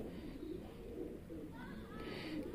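A flying-breed pigeon in a loft gives soft, low cooing, heard faintly over a quiet, steady background murmur.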